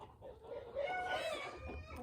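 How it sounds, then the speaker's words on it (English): Chickens on a homestead kept near the house make soft clucks and a few higher drawn-out calls, faint and somewhat distant, rising in the middle and settling again. "Do you want to have chickens on your property? You hear them."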